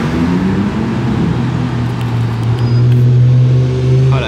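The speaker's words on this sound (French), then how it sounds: "la Testarossa, le bruit qu'elle fait" A Ferrari Testarossa's engine sounds loud and close on a Monaco street, a strong steady drone that swells into a rising rev as the car moves past.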